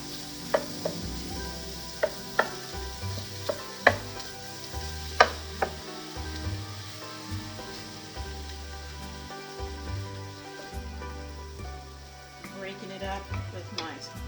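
Flat-topped wooden spoon stirring and scraping lean hamburger meat frying in a pan at home; steady sizzle with sharp periodic knocks and scrapes against the pan bottom, close and clear.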